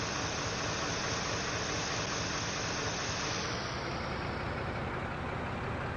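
A BR204 diesel locomotive in Germany, in a train simulator game, eases into motion with a steady, loud engine drone and broadband hiss, unbroken throughout with no voices.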